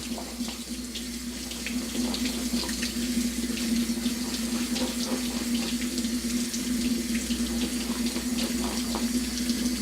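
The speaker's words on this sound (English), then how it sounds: "So we're going to rinse off the chickpeas." Steady running tap water splashing into a sink while chickpeas are rinsed, a continuous hiss with small scattered clinks and rattles, close by and without talk.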